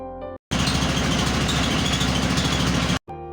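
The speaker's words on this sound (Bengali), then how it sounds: "ইঞ্জিনের গটগট শব্দ কিছুটা বিরক্ত লাগলেও" A trawler boat's engine chugs loudly and steadily in a low, rhythmic throb, close by, cutting in abruptly and stopping just as suddenly.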